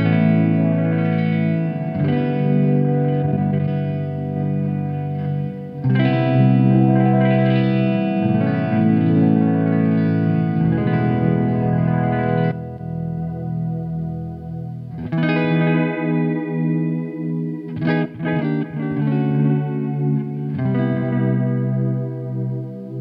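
Electric guitar played with a clean tone through a delay pedal, chords and single notes ringing out with repeating echoes, alone without voices.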